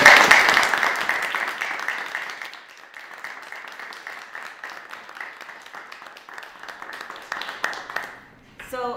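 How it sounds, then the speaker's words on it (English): Audience applause for the Secretary of Labor at a workers' rights roundtable, a burst of clapping that is loudest at the start and tapers off, with speech sounding over it. "I want to just ask everybody to applaud our Secretary of Labor."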